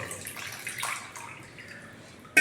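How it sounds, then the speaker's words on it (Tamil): Liquid plant fertilizer poured through a strainer gives a close trickle and splash that fades to light dripping, then a sharp sound at the very end, with no talking. "வடிகட்டியில் சேர்க்க போகிறோம் வடிகட்டியில் ஃபில்டர் பண்ணுறோம் பாருங்கள்"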